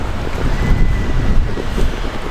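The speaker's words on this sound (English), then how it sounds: "It's cold and windy out today" Steady, loud, cold wind rushing and buffeting a microphone outdoors in Arizona, with low rumbling gusts throughout and no voices.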